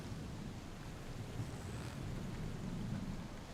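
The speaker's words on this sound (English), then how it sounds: "It's playing Storm Sounds instead." Steady roaring wind and rushing water, a continuous stormy ambience track with no voices, like waves and gusts battering close by, playing during a tabletop role-playing game session.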